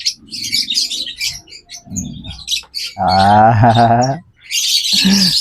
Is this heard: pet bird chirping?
yes